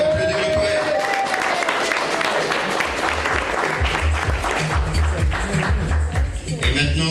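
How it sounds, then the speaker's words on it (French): An audience applauds a poet at a slam poetry contest, with dense sustained clapping and scattered cheers filling the room while a voice speaks briefly over it near the start. "On peut applaudir le poète."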